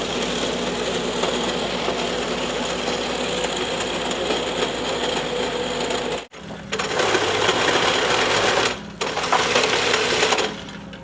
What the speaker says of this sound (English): you'll spin that around here into a clean pile, and that'll grind up that dirt and rock stuff in it cleaned up